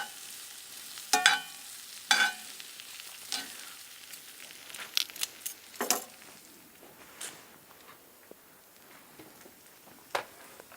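Onions softening in a frying pan for a burger, a soft sizzle broken by sporadic scrapes and clacks of stirring, some sharp and close, others lighter, with no voices.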